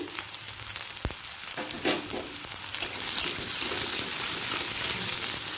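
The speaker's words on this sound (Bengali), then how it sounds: "এক টেবিল চামচ সর্ষের তেল দিয়ে দেব পেঁয়াজ কুচি" Roughly chopped onion frying in a tablespoon of mustard oil, a close, steady sizzle that grows slightly louder and fuller as it goes on, with a few stirring clicks early.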